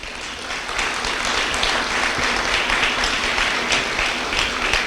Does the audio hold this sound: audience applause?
yes